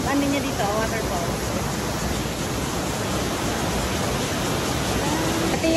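Waterfall at Xiao Wulai scenic area in Taiwan, a loud, steady broadband roar of falling water filling the whole stretch.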